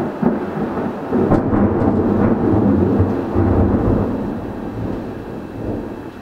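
Loud, deep thunder rolls and rumbles through a thunderstorm, swelling early and then fading slowly, with a faint wash of rain behind it.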